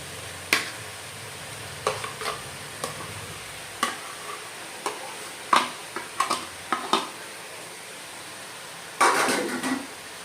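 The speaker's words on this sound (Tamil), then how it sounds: "சிக்கனு எல்லாம் போட்டு கிண்டிக்கிட்டு இருக்கேன். வெந்துக்கிட்டு இருக்கு பாருங்கள்." Half a kilo of chicken with ginger garlic paste is stirred in a pan. Sharp, irregular spatula scrapes and clacks ring out over a quiet sizzle, ending in a longer scraping burst, with no voices.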